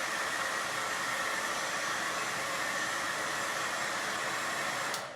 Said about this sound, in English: I'm gonna make a little bit of noise with the blow dryer here